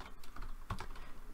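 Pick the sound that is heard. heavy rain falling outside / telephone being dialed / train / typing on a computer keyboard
typing on a computer keyboard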